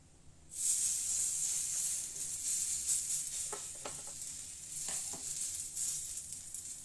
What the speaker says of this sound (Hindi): ये अमूल का घी है, मैं इसके चारों तरफ यूज कर रही हूँ थोड़ा सा डाल के